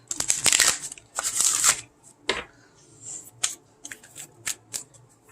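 Tarot cards are shuffled close up in quick riffling bursts, followed by softer scattered taps and flicks of cards being handled in a quiet room.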